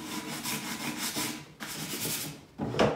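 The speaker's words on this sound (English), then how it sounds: "Sand that knob." A painted wooden cabinet knob is sanded by hand, giving steady rough rubbing strokes in several passes, close and moderately loud, with a sharper scrape at the end.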